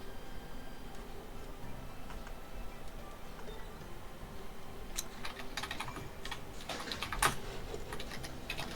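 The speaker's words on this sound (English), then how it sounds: "What are you clacking? My keyboard" A computer keyboard clacks quietly in a calm room: sparse soft taps at first, then busier bursts of rapid, uneven keystrokes with one sharper hit near the end.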